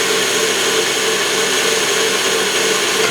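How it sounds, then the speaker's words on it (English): An electric mixer whirs steadily and loudly, close up, as it beats strawberry bundt cake batter with eggs, a continuous motor drone with no pauses and no talking. "And we're going to mix this up pretty good"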